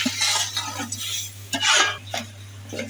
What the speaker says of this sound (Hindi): ड्राई फ्रूट को खजूर में मिक्स करेंगे।